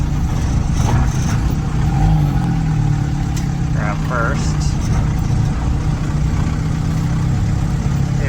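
A 1975 MK1 Ford Transit diesel truck drives steadily, its low engine drone constant and close throughout, with a driver's voice speaking over the running motor.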